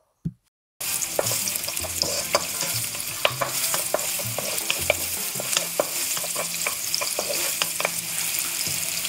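Chopped onion sizzles steadily in about a tablespoon of hot oil in a pan, a dense close frying hiss with scattered sharp crackles and occasional stirring scrapes, after a brief quiet start.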